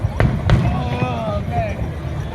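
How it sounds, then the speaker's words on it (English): Fourth of July fireworks at Brighton Beach, New York City, pop in two sharp bangs followed by whistling crackle, with people talking nearby. "New York City is the one responsible for this fireworks show."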